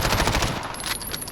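An EM2 rifle fires in a video game, a rapid burst of sharp automatic shots in quick even rhythm, loud and close, cutting off after about a second.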